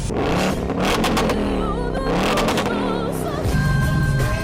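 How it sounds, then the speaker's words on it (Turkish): A Ford Mustang's exhaust revs loudly up close in repeated surges, the engine climbing and falling several times with crackling between pulls and no talk over it. "Şu egzozları bir son defa dinleyelim."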